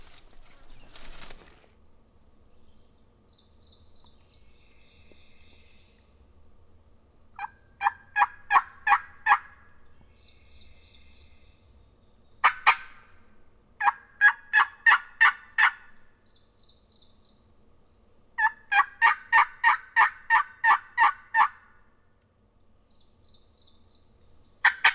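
Wild turkey gobblers on public land in Florida call outdoors in repeated bursts of rapid gobbling, some fairly close and loud, with quieter bird calls between them and no talk.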